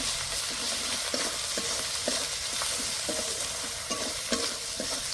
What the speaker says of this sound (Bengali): আদা বাটা, রসুন বাটা, আদা ও রসুন দিয়ে কিছুক্ষণ নেড়ে নেব।